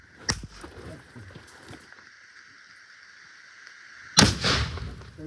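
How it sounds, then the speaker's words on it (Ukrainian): During military training, two sharp explosion blasts from a grenade crack out, one early and one louder about four seconds later, each followed by a short rumbling decay, over a faint steady background hum. "Граната."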